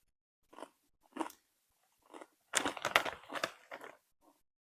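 Hickory smoke flavored Costco potato chips crunch between the teeth in a series of close, crisp bites, sparse at first, then a denser burst of chewing with quiet gaps and no speech.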